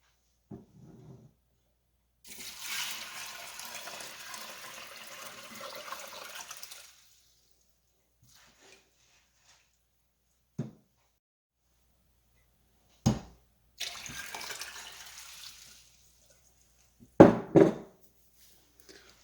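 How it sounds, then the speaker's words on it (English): Water runs from a tap in two stretches, splashing steadily for a few seconds each, with occasional clunks and knocks in between. "And then we're going to add water."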